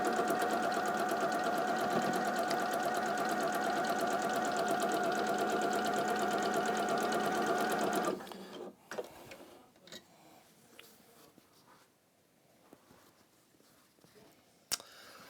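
A sewing machine runs fast and steady along a fabric seam for about eight seconds, a loud rhythmic mechanical whirr, then stops abruptly, leaving quieter handling clicks and a sharp knock near the end.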